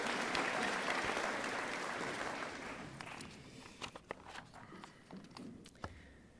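At an eighth-grade promotion ceremony, a crowd applauds the Academic Excellence Award winners; the clapping is fairly faint and distant, thins out steadily, and ends in scattered individual claps.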